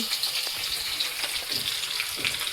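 Green chilies, with turmeric and red chili powder, sizzle and crackle in hot oil in a home kitchen pan, a steady close hiss with small popping bursts throughout, no voices.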